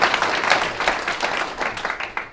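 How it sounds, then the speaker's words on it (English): A startup meetup audience in Auckland applauds the guest speaker Jake, a brief burst of dense, steady clapping from many hands, fairly close and without voices. "We give Jake a round of applause for taking the time out to come and speak to us today."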